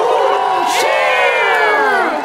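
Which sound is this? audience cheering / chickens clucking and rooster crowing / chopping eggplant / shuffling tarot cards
audience cheering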